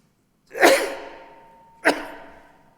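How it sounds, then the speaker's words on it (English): Two sneezes from a man with a cold during a city conservation commission public meeting, the first a loud full burst, the second shorter about a second later, both close and alone without talk. "I might sneeze here."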